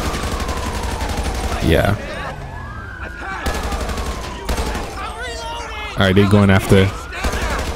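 Rapid gunfire crackles in bursts amid wailing police sirens during a GTA 5 LSPDFR police patrol shootout, the shots loud and close while someone speaks briefly over the chaos.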